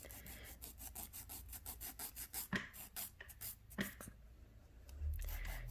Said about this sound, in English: I'm just getting rid of any scratchy edges, filing them into shape